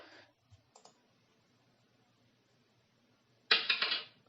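A PowerPoint coin sound effect triggered by a mouse click bursts out loud and bright for about half a second near the end, after a few faint clicks over quiet room tone.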